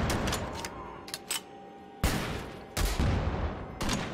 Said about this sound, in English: It's like a grenade launcher.